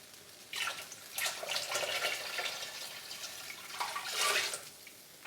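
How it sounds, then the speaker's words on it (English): Fresh tap water runs into a pot for pho broth in a home kitchen, a steady hissing stream that swells in bursts and then settles, close by with no talking. "now I'm going to put new water in"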